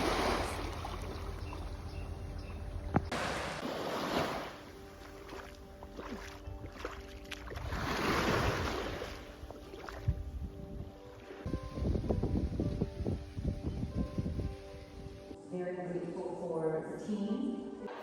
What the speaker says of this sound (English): Found my way to the beach, and look at this.